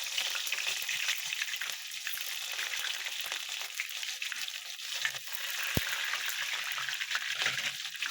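Grated onion fries in oil with whole spices such as cardamom and cinnamon for an egg curry, giving a continuous close hiss and sizzle with occasional stirring clinks and a sharp knock.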